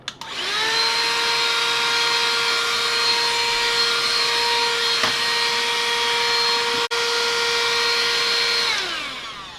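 An Absorb AB101 cordless car vacuum cleaner runs steadily throughout, a loud continuous motor whine with strong harmonics, starting up and winding down at the end, with one brief dropout partway through.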